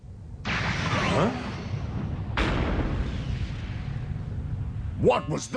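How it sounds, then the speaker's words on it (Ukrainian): A planet explodes in the animated Transformers Energon series: two huge roaring blasts hit in succession and trail off into long rumbling decay, and a voice speaks briefly right at the end. "Та планета щойно вибухнула."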